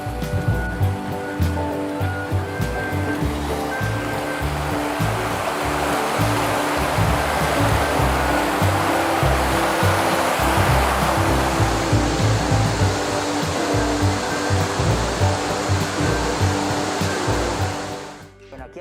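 Water rushing steadily down a natural river rock slide along the Guejar river, a loud continuous broadband roar that holds for most of the clip before dropping away abruptly near the end.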